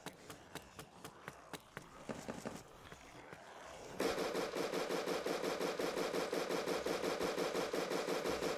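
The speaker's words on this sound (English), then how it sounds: "the sound on this gun's not very good" Gunfire in the zombie wave shooter APOCALIVE, first spaced single shots, then a rapid continuous burst of automatic fire, fairly faint and thin-sounding, with no talking over it.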